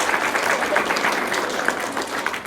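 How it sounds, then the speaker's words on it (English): Dinner-presentation audience applauding, a dense burst of many hands clapping at close range, steady and lively for the whole stretch with no speech over it. "I think they're applauding your putting up with me"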